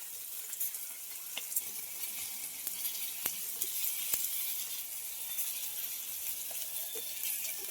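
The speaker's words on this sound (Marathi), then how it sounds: "थोडंसं आहे ना तेल साठवून सोडतोय, जेणेकरून कसं फ्राय ना प्रॉपर होईल." Bangda mackerel frying in a little pooled oil on a tawa over a wood-fired chulha makes a constant hissing sizzle, punctuated by scattered sharp spatters and pops, close and even throughout.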